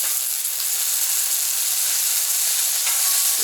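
Sausages sizzle on a Camp Chef FTG600 flat top grill, a loud, continuous frying hiss and crackle held evenly from start to finish, with no voices over it.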